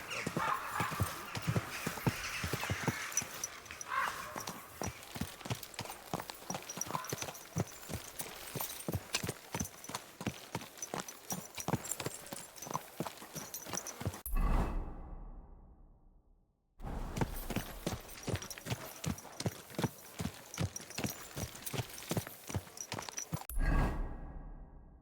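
Horse hooves clip-clop steadily on the ground in Kingdom Come: Deliverance 2, a continuous trotting rhythm with rustling and swishing, briefly cut to silence twice before the hoofbeats resume.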